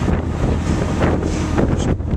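Strong wind buffets the microphone in a steady roar, gusting throughout with a faint wash of water beneath, aboard a ferry in Scotland.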